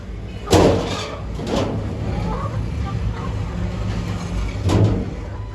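A door at a poultry farm for egg-laying hens bangs and rattles open in a few sharp knocks, close by, with background rustling between the impacts.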